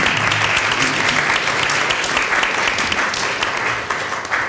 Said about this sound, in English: Let's have an applause for this